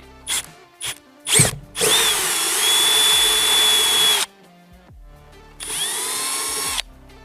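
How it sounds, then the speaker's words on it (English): A power drill with a 7/16 bit whirs in a few quick bursts, then bores steadily for a couple of seconds, stops, and runs again briefly, cutting a hole for a Mustang deck lid trim panel; loud and close, no talking. "we're gonna take the 7/16 drill bit and go ahead and cut the rest of the hole out"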